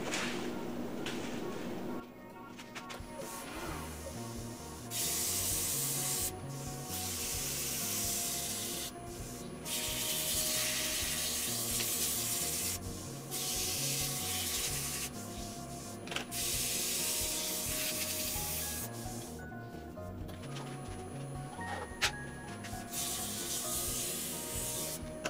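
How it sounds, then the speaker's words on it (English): Abrasive sanding of a turned wooden desk clock spinning on a woodturning lathe, a steady loud rubbing hiss that rises and drops in several bursts over a constant motor hum. "start sanding."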